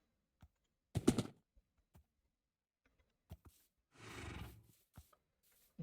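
A horse in the video game Minecraft gives two short whinnying neighs a few seconds apart, separated by quiet stretches and a few faint clicks; no one speaks.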